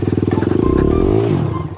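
A CFMOTO 450MT adventure motorcycle ridden off-road, its engine close and loud, revving up and down with a throbbing exhaust and a rising and falling pitch.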